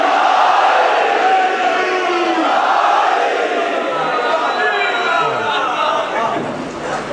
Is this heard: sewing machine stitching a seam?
no